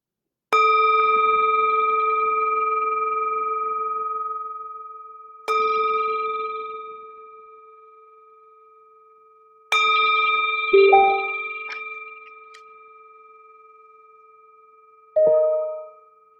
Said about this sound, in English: we'll begin and end with the sound of the bell